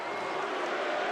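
A stadium crowd of Indiana Hoosier fans chanting at a college football playoff game against Notre Dame, heard as a continuous, blurred roar of many voices at a distance, steady in level throughout.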